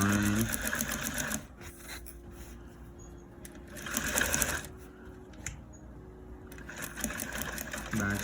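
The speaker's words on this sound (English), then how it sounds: "we're just gonna sew the line." Sewing machine stitching the line of a welt pocket, running in loud rapid bursts separated by quieter pauses, close by, with a person talking softly between runs.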